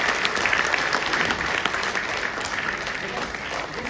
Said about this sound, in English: Rangam needs louder round of applause,